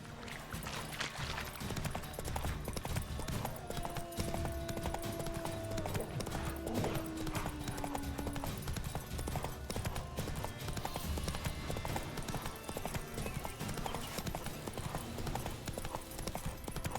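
Roach the horse's hooves clop steadily on a road in The Witcher 3 video game, a continuous rhythmic beat under game music and ambient noise, with no talk.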